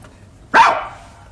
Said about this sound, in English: Ah, the obligatory dog.